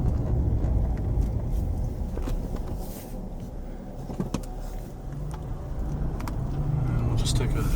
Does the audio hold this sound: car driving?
yes